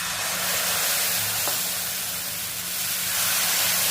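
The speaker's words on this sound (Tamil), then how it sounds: "கொள்ளு மாவு தோசையை இதில் ஊற்றிக்கிடுவோம்" Horse gram dosa batter sizzles on a hot, oiled dosa tawa, a loud steady hiss close up that holds throughout with no talking.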